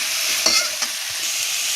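Masala spiced with kasuri methi, fennel, cloves and cinnamon frying in a pan, a close steady sizzle with a couple of soft stirring scrapes, no voices.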